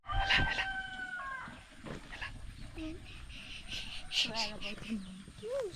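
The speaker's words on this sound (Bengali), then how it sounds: "আর এখন এই মোরগ মুরগির ডাক শুনে আমার মেয়ে খুব এক্সাইটেড" A rooster and hens call near rice fields on a rural Indonesian island: a near crow at the start, then scattered clucks with insects chirping and voices in the background.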